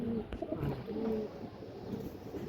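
Pigeons coo softly in a few low, murmuring calls at a moderate distance, set against a steady background hum.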